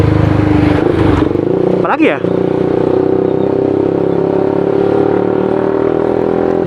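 A Suzuki GSX-S motorcycle engine runs loud and close with a raspy custom exhaust, briefly revving up before settling to a steady drone as someone speaks over it.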